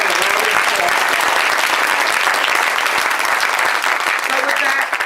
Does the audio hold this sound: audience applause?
yes